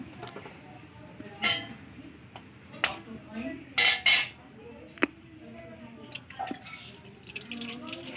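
Two eggs are cracked into a bowl, giving a few sharp, close taps and clinks scattered among quieter kitchen noises, with a voice talking at times.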